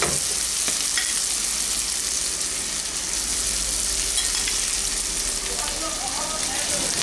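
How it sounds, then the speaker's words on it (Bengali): Rice is added to hot oil and stirred for potato fried rice, making a dense, steady sizzle with occasional scraping from the spoon, close and continuous. "এক মিনিট মতো এটাকে নাড়বো তেলের মধ্যে। এখন আমি ভাতটা দিয়ে দিচ্ছি।"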